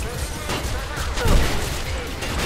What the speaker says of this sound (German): Ich darf nicht die komplette Munition verballern.